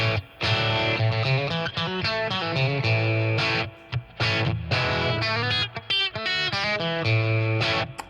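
Electric guitar through a Boss Katana 50 modeling amplifier, with a processed, effects-laden tone, plays chords and melodic lines continuously, with brief pauses between phrases.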